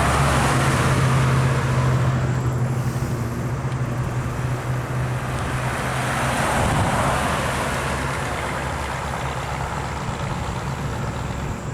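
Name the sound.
Volkswagen Beetle car approaching on road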